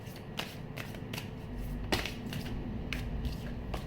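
Tarot cards riffled and drawn from the deck in quick papery bursts and flicks, close and fairly soft, with no voice over them.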